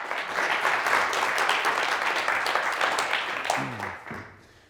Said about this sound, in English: a warm round of applause for Jelle Klaas